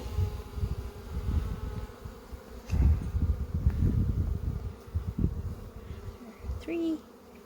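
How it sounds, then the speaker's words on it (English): Bees buzz close by in a low, droning hum that swells and fades, with one louder pass near the end. "influx of bees like there was last time"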